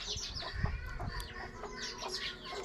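Chickens cluck and a rooster calls near a village house, a soft, busy mix of clucks and crowing at moderate distance under faint background noise.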